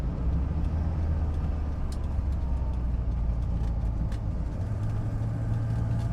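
A Mercedes W123 200d with a manual gearbox climbs a steep hill in third gear, its diesel engine giving a steady, loud low drone under heavy throttle, with road and wind noise around it and no talk.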